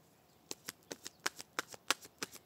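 Tarot cards are shuffled close up in a quick series of about a dozen crisp, papery riffling snaps at an uneven, lively rhythm, quiet overall with no talking.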